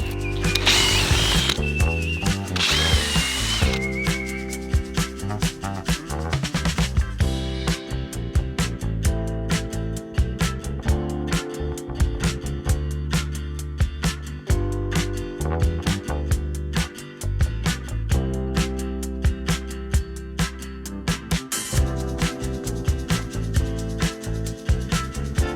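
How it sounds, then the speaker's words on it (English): A drill driving an auger into garden soil gives a loud, continuous motor whine with rapid clicking and grinding that changes pitch now and then as it bores in. "It's my auger attached to a drill."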